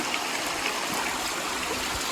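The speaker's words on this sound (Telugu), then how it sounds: "ఎటు చూసినా వాటర్ పారుతున్నాయి" A stream rushes steadily at Pokalagudem viewpoint near Kothagudem, its water flowing as a continuous, fairly loud broadband wash with no pauses or voices.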